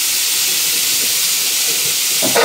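Vegetables, bitter gourd with peas and paneer seasoned with turmeric and salt, frying in a pan, giving a steady bright sizzling hiss throughout with a brief clink near the end.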